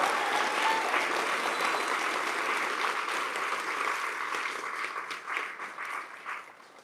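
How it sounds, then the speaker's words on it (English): An audience at a South African startup awards ceremony gives a sustained round of applause, dense clapping that holds steady and then thins and fades toward the end. "I would just want to give you guys the biggest round of applause."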